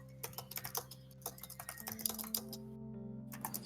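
Rapid, uneven clatter of keys being typed on a computer keyboard, moderately close and fairly quiet, with a steady tonal hum beneath and a brief pause before the tapping resumes.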